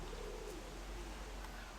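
Pigeons coo softly outdoors, a faint, low, rolling call heard beneath steady wind noise.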